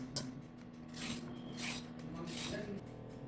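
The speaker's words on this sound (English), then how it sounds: "Peel the carrots." Carrots being peeled, soft rasping strokes repeating at a slow, uneven rhythm, quiet and close in a kitchen.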